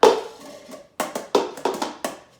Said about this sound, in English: I'm gonna try this cup. A little bit of a different sound.